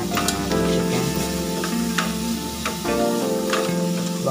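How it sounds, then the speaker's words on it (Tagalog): Chicken stirred in an oiled pot for sopas, a Filipino creamy chicken soup, with a steady sizzle and scraping stir sounds and a few sharp utensil knocks. No one speaks. "Haluin lang natin ang ating chicken."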